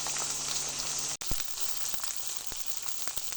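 Pieces of rui fish crackle and sizzle steadily in hot oil in a pan, with a brief clatter partway through as the fish is turned, and no voices.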